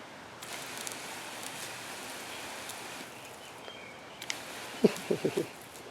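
Water sprays from a RinseKit Plus portable shower during a pressure test outdoors, a steady soft hiss throughout, joined near the end by a few sharp, separate knocks.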